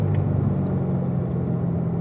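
A car engine pulls hard on a race track in third gear heading downhill, a steady close low drone holding throughout with no voices.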